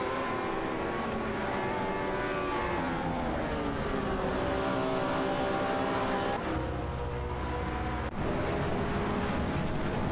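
Race cars run in an AI racing simulation, with continuous loud, layered engine drones whose pitch rises and shifts as several cars accelerate and pass, steady throughout and with no talking.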